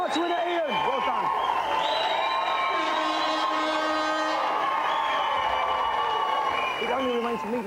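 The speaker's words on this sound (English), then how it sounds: "Let's have a big round of applause for tonight's winner" A studio audience on a 1993 GamesMaster TV game show cheers and applauds the night's winner, steady and loud throughout, mixed with bright music.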